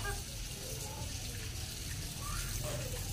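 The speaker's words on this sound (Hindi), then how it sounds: "मैं तो आलू जो है ना वो धो लूँ क्योंकि फिर वो ना छीलने में आसानी हो जाएगी" Muddy new potatoes are washed by hand in water in a village home, a soft sloshing and trickling of water over a low steady hum, fairly faint and continuous.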